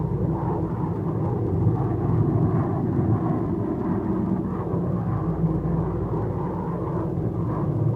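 A Bell X-1A rocket aircraft in flight: a continuous, deep, rumbling roar that holds steady and loud throughout, dense low-end noise with no other sounds on top.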